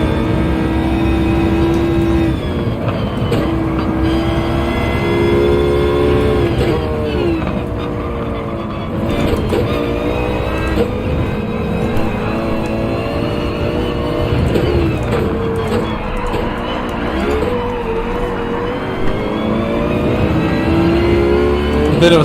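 Racing cars in Gran Turismo 7, with a loud, continuous engine note rising and falling through gear changes and throttle lifts, an opposing BMW close behind, sustained without pause.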